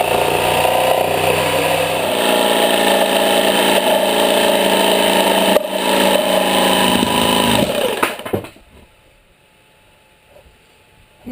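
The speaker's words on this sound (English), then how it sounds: "And now I'll just take my jigsaw." A handheld jigsaw cuts through wood for a teardrop trailer build, a loud buzzing motor with rapid blade chatter running steadily for about eight seconds before stopping abruptly into near silence.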